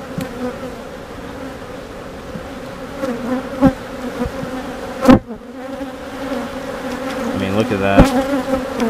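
Honeybees buzz steadily at an open hive during a frame inspection, a dense close drone with sharper passes as bees fly near, while someone speaks briefly.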